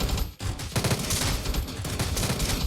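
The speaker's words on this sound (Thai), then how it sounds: "ออกมา ยิงผีข้างนอกซะเลย" Soldiers shooting ghosts in Roblox The Resistance Tycoon, a dense, continuous fusillade of overlapping game gunfire, loud and close, with only a momentary dip in the barrage.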